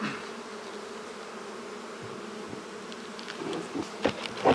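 Many honeybees buzz steadily in a close, droning hum around a hive in Newfoundland, with a few soft knocks and rustles near the end.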